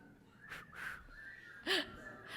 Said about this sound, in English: Whoa, can you whistle really well?